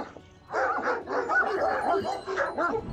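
A large, powerful Kangal dog barking repeatedly, loud and close, a rapid run of deep barks with brief gaps, following a quiet moment at the start.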